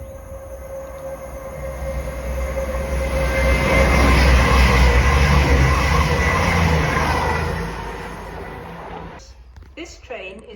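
Train at Market Harborough station, a broad rumbling roar that swells over several seconds and then fades, with a steady tone running through it and a station announcement voice heard over the noise.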